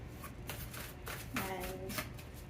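Tarot cards are shuffled in quick riffling bursts close by, papery flutters coming in short waves while a voice talks softly over them.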